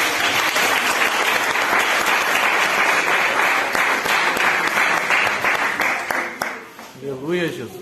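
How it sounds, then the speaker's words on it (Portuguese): A church congregation claps and applauds together in praise during a healing and deliverance service, a loud, dense, sustained roar of many hands that thins near the end as voices and singing emerge. "E que um lindo louvor de palmas louve no nome do Senhor Jesus."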